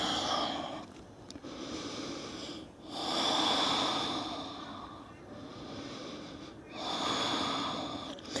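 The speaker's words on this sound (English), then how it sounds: "Take a breath in and breathe out." A person in yoga child's pose takes slow, audible breaths in and out. The airy exhales swell and fade in long, even cycles, close to the microphone.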